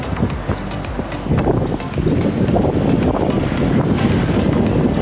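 Heavy, steady wind roars and buffets the microphone while cycling near the Pililla, Rizal windmills, a constant rushing blast with rumbling low gusts and a few faint ticks, no voices.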